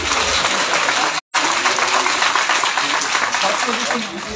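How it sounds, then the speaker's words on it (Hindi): An audience claps at a school prize announcement for first-year positions, with loud, dense, sustained applause that breaks off briefly and then continues steadily. "तालियां भी होनी चाहिए।"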